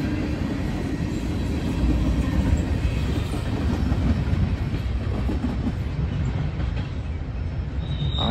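A passing train, loud and close, with a continuous low rumble and the steady clatter of railcars rolling by without letup, and no talking over it.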